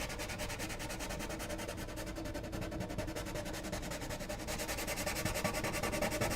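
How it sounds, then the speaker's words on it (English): Sandpaper rubs the bridge area of an acoustic guitar top in a steady, rhythmic scratchy stroking, continuous and close throughout, with no talk. "All right, so we got this all sanded down."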